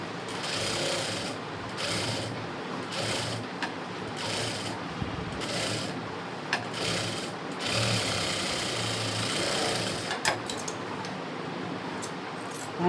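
Sewing machine stitching an embroidered blouse, a quiet whirring in repeated short bursts separated by brief pauses, with no talk.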